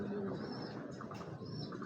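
Pigeons calling and cooing softly over a dense, steady outdoor background, with a faint voice or two in the mix.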